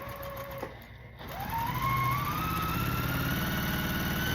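A sewing machine joins quilt block pieces, starting after a short pause and then running at a steady fast whir close by, with a faint tone in the background.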